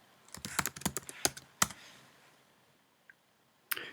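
Keys clatter on a 2016 13-inch MacBook Pro as a password is typed, a quick burst of crisp clicks over about a second and a half, then quiet with one faint tap and a final louder keystroke.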